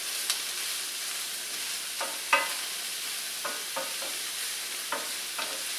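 Chorizo and garlic cloves frying in a pan for paella, a continuous soft sizzle broken by scattered scrapes and stirring knocks, close and alone.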